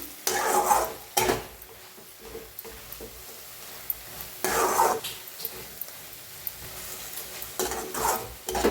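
Ambadi leaf sabzi being stirred in a pan: loud scraping bursts of a spoon against the metal in irregular strokes, separated by quieter stretches of soft sizzling.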